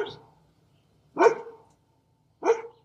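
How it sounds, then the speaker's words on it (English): A guard dog barks near a residential garage in a hillside home area, giving three separate loud barks spaced about a second apart with quiet gaps between. "there's a guard dog here"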